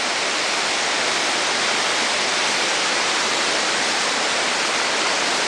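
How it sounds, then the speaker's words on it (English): Creek water, swollen by runoff and still filling, rushes loudly and continuously in a dense, even roar close by, with no voices. "the creek below us is not full yet, but it will be filling up pretty soon"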